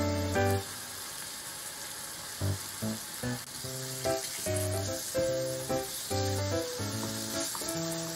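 Tofu and spam simmer in a reducing sauce in a pan, a soft steady sizzle running underneath while a light musical melody plays on top, with no voices.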